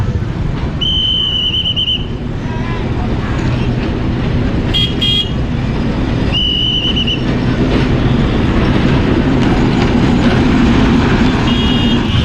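A train passes a level crossing with loud, continuous rolling rumble, punctuated by a few short high-pitched squeals or toots that come and go.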